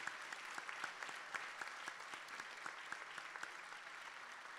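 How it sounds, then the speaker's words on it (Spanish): Crowd clapping steadily at the opening of a forum on beekeeping legislation, a dense patter of many hands at moderate distance, holding even throughout without cheering or speech. "Signemos con un fuerte aplauso la inauguración de este evento."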